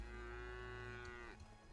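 Cattle in the video game Craftopia let out a long, loud low moo that holds steady before tailing off, heard alone without talk.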